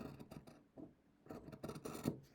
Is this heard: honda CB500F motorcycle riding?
no